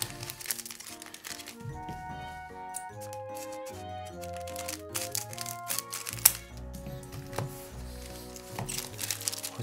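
Several Yu-Gi-Oh Legacy of Destruction booster packs are torn open close up, with crisp foil crinkling and ripping. Soft cards shuffle and click underneath, and quiet murmured talk is heard over a low background hum.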